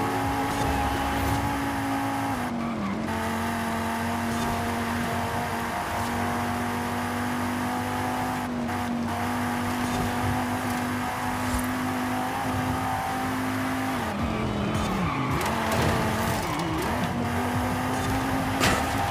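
Race cars in Forza Horizon 5 during a championship race: a constant loud engine drone holding a steady pitch, with brief dips and rises at gear changes, dense and continuous throughout.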